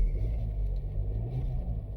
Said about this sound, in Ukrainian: будемо заводити двигун і слухати, як він працює